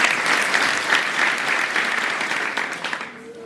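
A church congregation applauding together, a steady dense wash of clapping that stays loud throughout before thinning out at the very end.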